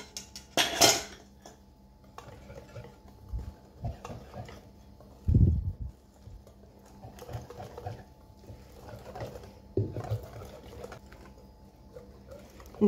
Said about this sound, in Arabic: وغادي حتى هي نخلطها مع المكونات حتى تنسجم ليا كامل